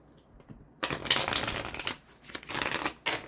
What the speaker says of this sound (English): Let me give this deck a couple shuffles.